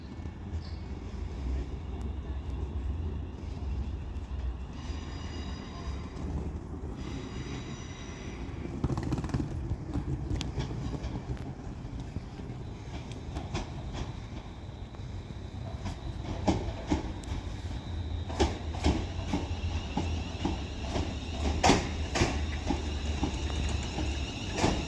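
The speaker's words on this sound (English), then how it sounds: "Now arriving in is going to be the delayed 1558 London North Western Railway service to Birmingham New Street from Liverpool Lime Street" A London Northwestern Railway Class 350 electric train pulls into Wolverhampton station on the West Coast Main Line, a steady low rumble with rising wheel clatter and squeals building over the second half, heard alone amid platform ambience.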